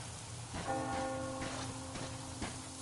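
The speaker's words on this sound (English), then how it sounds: "Do you hear that bell?" A bell tolls in a video game, a few sustained ringing strikes with a humming tail, heard over a steady rain-like background wash and no speech.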